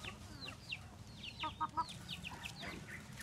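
A hen clucks in short, soft bursts close by, with a few sharper chirpy calls in the middle and faint farmyard noise behind, no talk.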